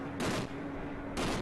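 Gunfire in Helmand province, Afghanistan: two loud bursts of shots close together with a steady hum beneath, with no talk.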